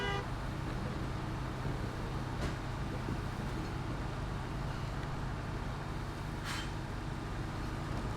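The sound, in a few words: truck cab horn honking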